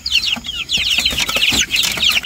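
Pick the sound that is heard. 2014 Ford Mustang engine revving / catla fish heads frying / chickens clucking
chickens clucking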